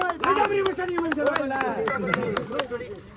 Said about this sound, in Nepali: ताली त पड्काइदिनुहोस् एकचोटि सबैले